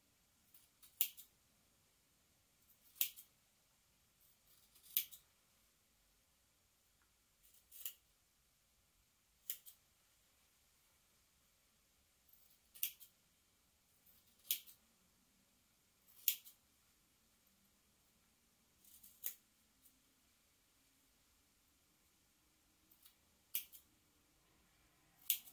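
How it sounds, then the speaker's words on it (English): Scissors snip through the seam allowances on thick stretch fabric for a dragon cosplay dress, making quiet, close, crisp cuts that repeat at irregular intervals of one to three seconds, with near silence in between. "just trimming some of those seam allowances helps everything sit in a really sharp"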